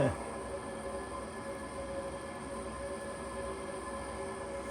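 A Vollara Surface Pro air purifier's noisy fan motor whirs continuously with a constant hum and faint tonal whine, fairly close and unchanging throughout.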